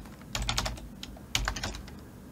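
Typing on a computer keyboard: two short bursts of brisk key clicks, close and fairly quiet, with no talking.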